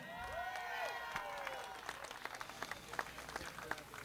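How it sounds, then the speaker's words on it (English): Crowd applause and scattered cheering at a race track during a celebrity race, with broad clapping noise mixed with voices and crowd murmur, steady and moderately loud throughout. "A big round of applause for Mr. Chad Chaffin."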